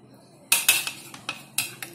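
A spoon clinks and scrapes against a bowl while potato slices for aloo pakora are coated in batter, about seven sharp, close taps in an irregular rhythm, with no talking.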